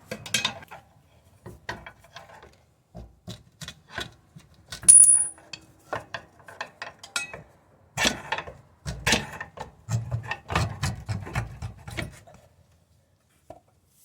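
Metal tools clanking and scraping while shocks are pulled off a 1996 Jeep Cherokee XJ during a leaf spring lift swap, with sharp clinks and knocks in irregular bursts close by.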